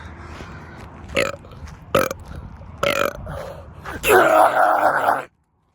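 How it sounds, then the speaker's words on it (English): A single long, loud burp from a man outdoors in hot weather, rising near the end and stopping abruptly, preceded by a few short rough sounds. "I gotta burp."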